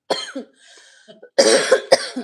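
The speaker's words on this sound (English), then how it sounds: "I'm coughing, guys." Several harsh, close coughs, a couple of quick ones followed by a louder, rougher burst, with a faint throat sound between.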